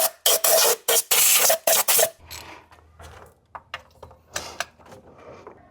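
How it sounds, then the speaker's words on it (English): Compressed air blasts clean debris from around the spark plugs and coil packs of a Nissan Sentra engine, coming as several loud, broadband bursts in quick succession that give way to quieter rustling and clicks. "I'm gonna blow out the area just to make sure no debris falls in the cylinders"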